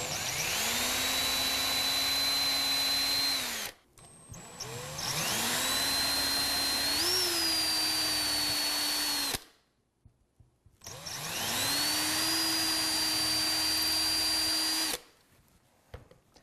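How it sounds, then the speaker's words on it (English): A power drill boring holes through a guitar body for a Floyd Rose tailpiece whirs in three long bursts, spinning up, holding a steady high whine, then stopping, with brief quiet gaps between runs. "Now that we've got our holes drilled into the guitar"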